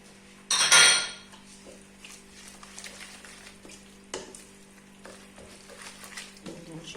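Savory cake batter with red cheese and cilantro being mixed in a bowl: a loud clatter of a utensil against the bowl at the start, then soft scraping and occasional clinks over a steady low hum.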